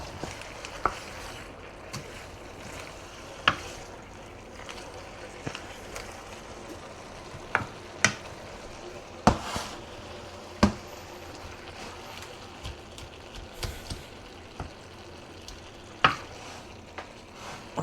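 Stir-fry in sesame oil stirred in a pan, a low steady sizzle broken by frequent sharp utensil scrapes and clacks at irregular intervals.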